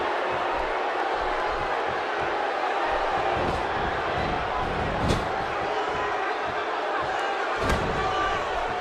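The arena crowd at an Undertaker versus Bray Wyatt wrestling match keeps up a loud, continuous roar, with a couple of dull slam-like thuds rising briefly above it.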